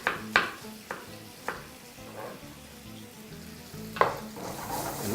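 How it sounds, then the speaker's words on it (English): Apples and sugar caramelizing in a pan over very high heat, a steady close sizzle and crackle with a few sharp clinks of a utensil against the pan. "all you want to do now is just caramelize your apples"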